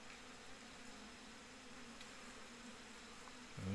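Honeybees hum and buzz steadily at an opened hive in cold mountain weather, a faint continuous drone with no voices, rising slightly at the very end.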